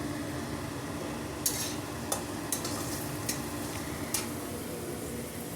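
Green chillies frying in a pan with onion for chicken fry, a steady low sizzle under a few sharp utensil clicks and taps against the pan.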